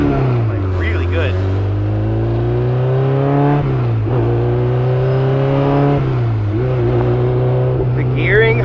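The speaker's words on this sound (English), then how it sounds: "This car sounds and almost like simulates a motorcycle." Honda S2000 with a built K24 engine revving hard in gear, a loud close-up engine note rising and dipping through several pulls with a sharp, motorcycle-like whine, heard from inside the car with faint voices.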